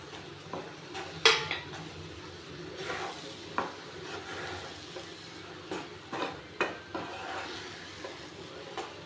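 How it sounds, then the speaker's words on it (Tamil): Roasted wheat flour being stirred into a pan for a Maharashtrian gulpavate sweet, with a soft sizzle and irregular scraping and clinking of a spoon against the metal, fairly close and without talk. "நம்ம வறுத்து வச்சுருக்க இந்த கோதுமை மாவை இதில் ஆட் பண்ணிக்கலாம்"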